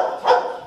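A single short bark from a fearful rescued dog at a kennel, loud and close, one abrupt yelp-like burst alone without talk.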